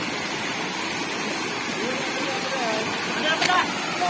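Steady rushing of a river stream running beside a mountain hiking trail on Gunung Bawang, a broad continuous water wash with a brief faint voice near the end.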